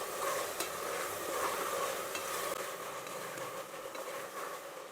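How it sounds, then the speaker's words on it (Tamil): Tomatoes sautéing with ginger garlic paste for chicken biryani, a continuous sizzle with stirring scrapes and an occasional clink of the spoon on the pan. "தக்காளியை சேர்த்துட்டு நல்லா தக்காளியை நல்லா வதங்கணும்"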